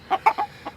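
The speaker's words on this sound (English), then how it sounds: "Here's the chickens are out today." Chickens out in a yard cluck close by, four short distinct clucks in quick succession with no talk over them.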